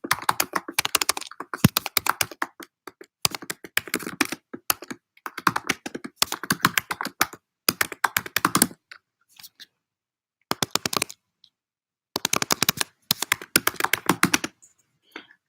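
Quick bursts of close computer keyboard typing, clicky keystrokes in uneven runs separated by short pauses, with no talking.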